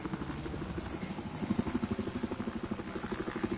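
Rhythmic thudding whop of helicopter rotor blades in the video game Battlefield 4, steady and fairly close, growing slightly louder with a rapid, regular beat.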